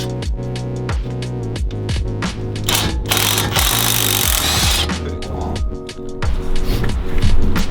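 A ratchet works loose the two caliper body bolts while a Powerstop Z23 Evolution Sport brake kit is fitted, giving rapid metallic clicking and grinding strokes, loud and close, with a harsher buzzing stretch in the middle.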